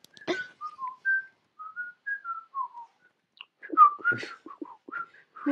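A clear whistled melody of short and sliding notes, followed by shakier, broken whistling, close and alone.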